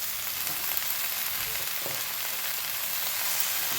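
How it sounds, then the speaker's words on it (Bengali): Pumpkin leaves fry in a hot pan, giving a steady, dense sizzle that fills the whole stretch, with faint scraping from stirring and no voices. "অল্প অল্প করে শাক দিয়ে কিন্তু একটু নেড়ে চেড়ে নেবে"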